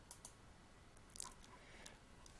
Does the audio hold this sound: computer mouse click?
yes